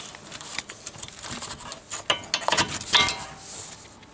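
A 17 mm wrench works a sway bar link nut on a Toyota Corolla, giving a close series of light metallic clicks and ratcheting taps that grow busier toward the end, with no talk.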